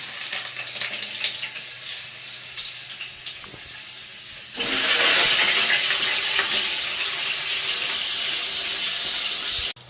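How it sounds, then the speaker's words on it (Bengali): Paneer pieces frying slowly in oil in a home kitchen pan, giving a steady sizzle that grows louder and fuller about halfway through and then holds until the end. Nobody speaks. "এবার দিয়ে আমি পনিরগুলো আস্তে আস্তে ভেজে নেব।"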